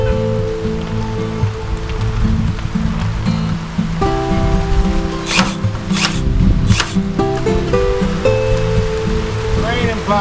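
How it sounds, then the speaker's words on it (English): Rain falling outdoors around a chicken run, a steady dense patter with some sharper splashes and rustling midway, fairly loud and close. "Oh, it's raining."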